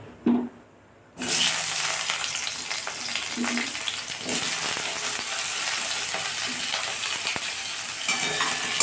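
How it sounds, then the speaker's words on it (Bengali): Potatoes hit a pan of hot oil with soybean chunks, breaking into a loud, steady sizzle after a brief quiet start and holding strongly throughout, close by with faint stirring clinks. "আলুগুলো হালকা করে ভেজে নেব সোয়াবিনগুলো দিয়ে দেবো"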